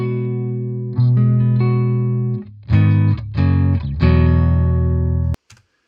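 Clean electric guitar riff miked with a Sennheiser MD421, sustained ringing chords followed by short choppy strums and a final held chord, loud and close, cutting off abruptly near the end.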